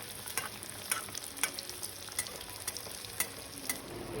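Fish fry pieces frying to golden brown in oil on a medium gas flame, a constant faint sizzle with light regular taps and stirs of a utensil.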